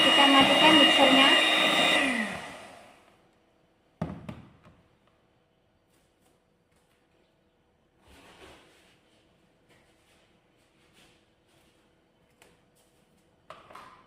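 An electric hand mixer beats batter for small pan-baked sponge cakes. Its loud, steady whirr winds down and stops after about two seconds, followed by near silence with a few soft knocks and clatters.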